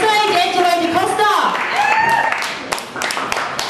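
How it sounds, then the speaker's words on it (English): A stand-up comedy audience claps and cheers loudly as a comedian is introduced, a dense wash of applause under a host's amplified voice that fades toward the end. "Start clapping. Start making a whole lot of noise"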